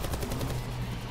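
Steady rapid-fire gunfire in Call of Duty Black Ops 4 zombies mode, loud and close with a fast, even rhythm of shots through the whole moment.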